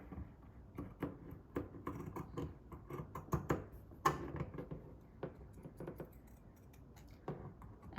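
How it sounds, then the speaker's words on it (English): Scissors snip steadily through fabric, following a drawn line, in a run of close, crisp cuts with short pauses, quiet and near, with no voices. "next you're going to cut out following the line"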